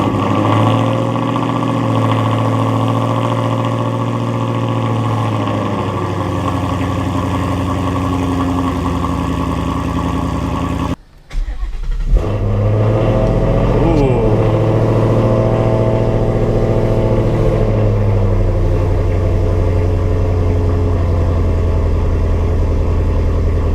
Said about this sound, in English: he's letting me start up the car